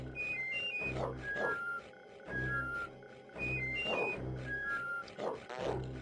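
Whistle password sequence in Oddworld: Abe's Oddysee, short melodic whistled notes in rising and falling pairs repeated in groups, trading with growly creature voices and game sounds.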